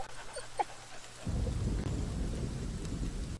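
Steady rain pours in a German audio drama, starting suddenly as a dense broadband wash that covers the whole scene, after a quiet stretch holding a brief whimpering or vocal sound.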